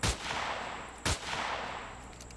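Two sharp, loud gunshot blasts roughly a second apart in the sci-fi survival game Empyrion, each followed by a lingering rumbling tail.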